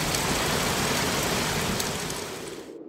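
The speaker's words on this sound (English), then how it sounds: "This can be the result of heavy rain." Heavy rain sound effect: a dense, steady downpour hiss, loud and unbroken, that thins and fades away in the final moments.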